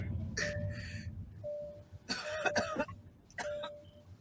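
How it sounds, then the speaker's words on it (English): A few sharp, close coughs in quick bursts inside a car, separated by short pauses, over a quiet cabin with a faint steady tone. "Do not cough in my car no more again."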